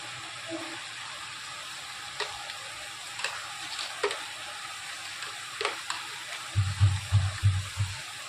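Onion, tomato and coconut gravy with curry leaves is being stirred and sautéed in a pan, giving a steady close sizzle with scattered spoon scrapes and a few louder stirring knocks toward the end.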